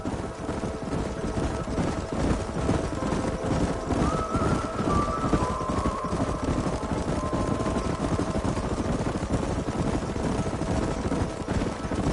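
A herd of wild horses gallops through a canyon in the video game Red Dead Redemption, a continuous dense rumble of hoofbeats with a whinny rising above it, steady and loud throughout.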